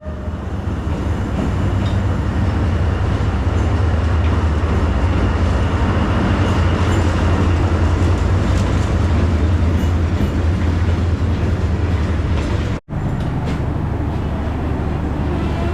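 A sleeper train in Vietnam rumbles into the station with a loud, steady low drone and clatter close by, continuing for over ten seconds before a brief cut.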